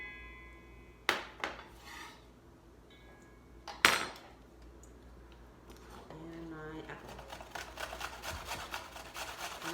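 Cut apple and carrot pieces dropping into a kitchen bowl, a couple of sharp clattering knocks followed by softer scraping and rubbing, close by, with a voice talking partway through.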